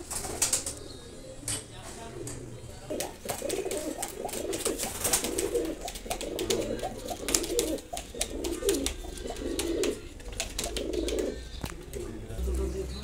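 Soft, low coos of Kamagar pigeons repeat in a steady rhythm close by, with occasional wing flutters and light clicks throughout.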